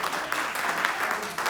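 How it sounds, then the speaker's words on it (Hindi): Enthusiastic applause from an audience fills the whole moment, a dense, steady clatter of many hands clapping at once, fairly loud and without pauses. "एक बार जोरदार ताली बजाएं भाई हमारे सनातन भाई"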